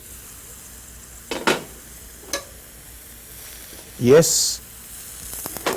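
Cauliflower and other vegetables sauté in a pan with a low, continuous sizzle, broken by a few sharp stirring clinks and scrapes; a voice briefly speaks.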